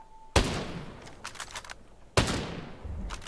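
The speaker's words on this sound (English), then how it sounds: "I hear gunfire." Gunfire in the shooter game Ghost Recon Breakpoint, with two sharp, loud shots a couple of seconds apart, each echoing and decaying, and quieter bursts of fire between them.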